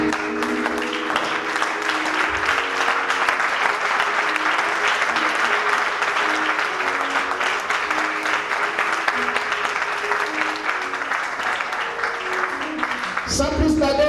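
A large crowd applauds steadily and warmly for several seconds at a senators' peace mission gathering in Kabadougou, while music plays underneath, then the clapping fades out.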